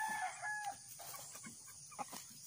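Gamecocks in a home yard give a rooster crow that trails off, followed by scattered clucks and short calls, fairly close but quiet against a faint background hiss.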